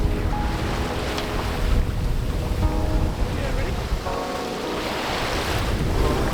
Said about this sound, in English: we're just like mesmerized by these waves just smashing against this rock we're going past